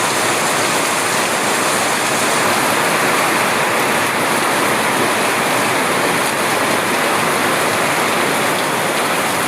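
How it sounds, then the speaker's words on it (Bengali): Rainwater running through a drain during a heavy downpour gives a dense, loud, unbroken rushing wash of water and rain, constant from start to finish with no voices. "ড্রেন দিয়ে সেই জল প্রবাহিত হয়ে চলে যাচ্ছে।"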